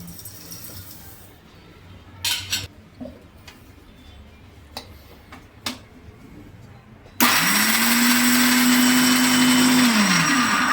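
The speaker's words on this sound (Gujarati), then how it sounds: "તેને મિક્સર જારમાં નાખી દેશું" A few clicks and taps, then a mixer grinder starts abruptly and whirs loudly and steadily, coarsely grinding sesame seeds and whole coriander without pause.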